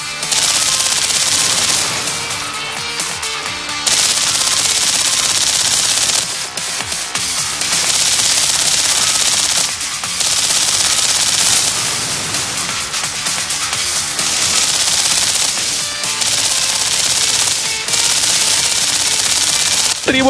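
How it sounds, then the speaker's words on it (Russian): From the shooter game F.A.Q come rapid bursts of automatic gunfire and blasts, loud and dense, in long sustained volleys with brief pauses between them, filling the full stretch. "Только выстрелы, оглушительные взрывы и душераздирающие вопли врагов доносятся из колонок"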